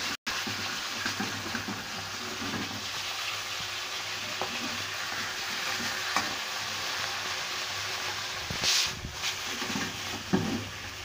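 Pieces of rohu fish frying in hot oil after being flipped, a loud continuous close sizzle with a few stirring clatters, and no talk.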